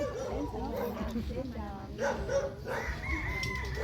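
Chickens and a rooster call around a farmyard, with bursts of clucking and crowing mixed with people talking nearby.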